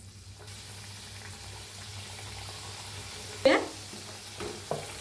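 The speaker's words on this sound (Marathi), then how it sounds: "दोन्ही साईडने तळून घेऊया।" Karanji pastries frying in hot oil give a steady, soft sizzle throughout, with a brief louder clatter of stirring or lifting near the middle and a couple of small knocks toward the end.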